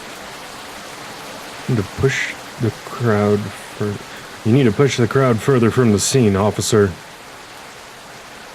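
Steady rain pouring at a crime scene in the small-town detective game Rainswept, a constant hiss running beneath two voices trading lines of dialogue.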